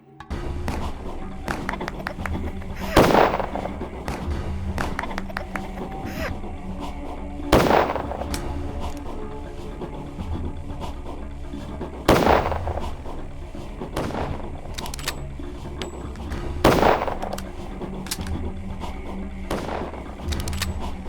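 Video game gunfire from Pathologic: four loud, sharp shots spaced roughly every four to five seconds over a dense, busy backdrop of game noise and music.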